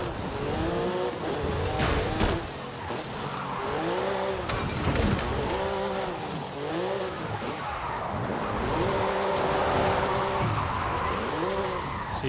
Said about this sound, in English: See, then it counts as a burnout